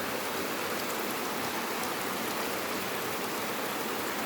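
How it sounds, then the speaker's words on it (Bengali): Heavy rain pours down steadily during a long day of downpour, a dense, even hiss with no breaks from start to finish. "সব জায়গায় বৃষ্টি হচ্ছে এখন।"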